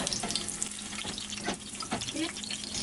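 Chili sizzling and frying in a small amount of oil in a pan while being stirred, a steady crackling hiss with occasional scraping of the spoon, close and continuous.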